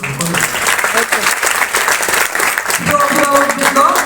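Loud, dense audience applause fills a school award ceremony for SSC students at Adarsha School Narayanganj, sustained throughout with voices rising over the clapping near the end.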